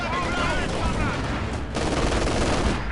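Heavy gunfire from Company of Heroes 2 Soviet campaign combat: sustained volleys of rifle and machine-gun fire crackle nearby without pause, with shouting voices mixed in.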